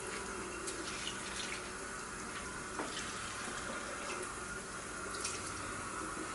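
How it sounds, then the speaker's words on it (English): Kitchen tap water runs steadily into a measuring cup, a continuous close splashing rush with no voices over it. "next I'm going to put 1 1/3 cup of water"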